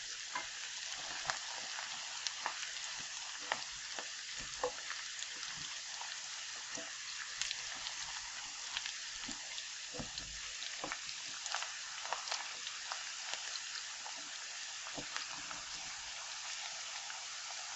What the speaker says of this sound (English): Just want to stir so nothing sticks in the bottom